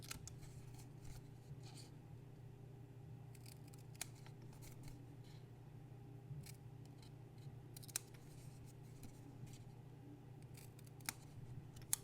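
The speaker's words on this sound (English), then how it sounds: "next I'm going to go ahead and cut away those outside corner squares" Scissors snip through paper card stock, trimming the corner squares from a mini matchbox card; sparse, quiet cuts and clicks over a low, steady background hum.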